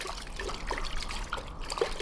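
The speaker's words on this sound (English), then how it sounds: "The angel kept digging till the water flowed from it." Water trickles and flows steadily from freshly dug earth, a continuous close liquid babble with small bubbling splashes and no voices.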